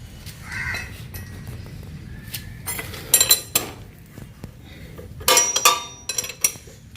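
A wrench works loose a 24 nut on a Royal Enfield motorcycle during a chain repair, making bursts of metallic clinks and scrapes close by, with quieter gaps between them.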